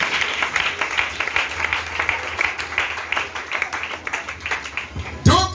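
Church congregation applauding as a preacher calls for acclaim of the word of the Lord, a steady sustained clapping from a crowd, close and fairly loud, ending with a brief thump.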